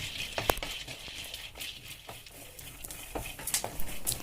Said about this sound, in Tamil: 1 கப்பு வேர்க்கடலை நல்லா வறுத்து எடுத்துக்கோங்க.